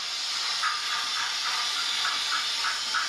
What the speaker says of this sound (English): you can buy the expensive locomotive and it makes some great noise